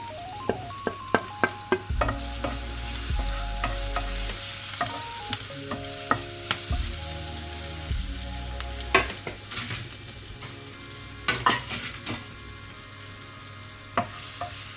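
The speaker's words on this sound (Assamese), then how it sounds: "পিঁয়াজখিনি সিজি গৈছে" Onions and chillies frying in a pan for a traditional Ui Kosu dish, a steady sizzle broken by frequent spoon scrapes and clinks against the pan, heard up close with no talking.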